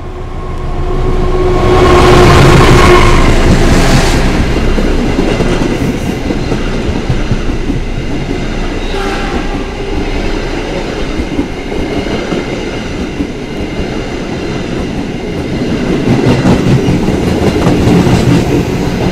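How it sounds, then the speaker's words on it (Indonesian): The Baturraden Express passenger train runs through Indonesia with a loud, continuous rumble and rhythmic wheel clatter on the rails, a brief horn-like tone near the start and swelling again toward the end. "perjalanan kereta api Baturaden Express ini sudah tiba di stasiun Cipendei"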